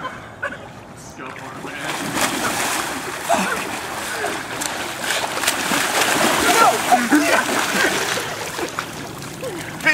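People splashing around in a warm pool, continuous sloshing and splattering water with voices talking and calling over it throughout.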